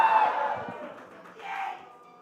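A crowd at a Splatoon 3 LAN tournament cheers and shouts in a short burst that fades, then rises briefly again, moderately loud and alone.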